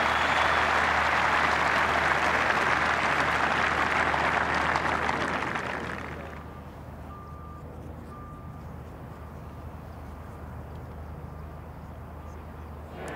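A golf crowd at St Andrews during The Open in 2015 applauds loudly after a wedge shot for about six seconds, then the clapping fades to a quiet murmur of distant crowd noise.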